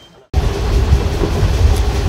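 A train runs at full speed across the plains of Andhra Pradesh between Guntur and Dhone, a loud, steady rumble and rush that bursts in after a brief quiet moment and holds without pause.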